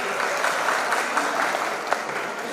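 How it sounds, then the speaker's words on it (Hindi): An audience at a radio listeners' convention in Buldhana, Maharashtra, breaks into sustained, lively applause, a dense patter of many hands clapping at once that holds steady for a couple of seconds without voices. "हमारे केशव जी नागापुरे के लिए एक बार जोरदार ताली होनी चाहिए।"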